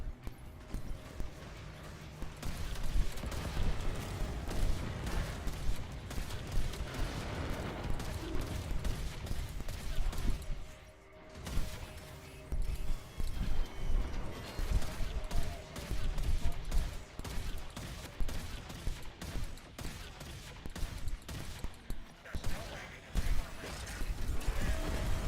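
Rapid gunfire from a Railjack spaceship's weapons in the video game Warframe, a dense continuous barrage of clattering shots with mechanical noise, steady and loud for most of the stretch with a brief dip midway.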